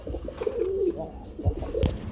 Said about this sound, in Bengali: আমরা এখানে দেখতে পাচ্ছি বন্ধুরা আরেক জোড়া কবুতর রয়েছে